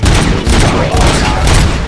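Loud, dense bursts of rapid gunfire in the video game Robocop: Rogue City crackle and boom continuously, a heavy barrage with no pauses.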